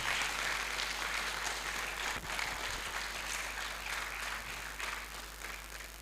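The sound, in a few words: forum audience applause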